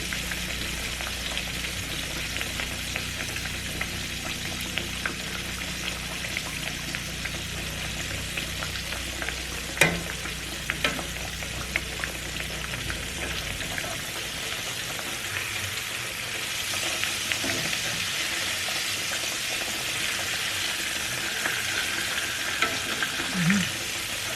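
Pork chops fry in a pan for a red beans and rice meal, giving a continuous loud sizzle and crackle with a brief clatter partway through, as if the chops are being turned.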